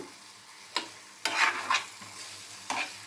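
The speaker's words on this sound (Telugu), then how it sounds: "కరివేపాకు వేసుకొని కొంచెం కూరని ఇలా కదుపుకున్నాము" Brinjal onion curry with curry leaves being stirred in a pan, a few distinct scraping strokes against a steady frying sizzle, close and moderately loud with no talk.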